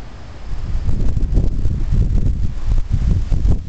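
A strong gust front from a severe thunderstorm in State College, Pennsylvania roars past as a loud, steady rush of wind buffeting the microphone with low rumbling turbulence and rustling.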